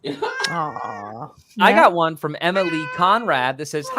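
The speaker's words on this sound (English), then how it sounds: "I just heard meows all of a sudden." A cat meows a few times close by, mixed in with steady talking from several people.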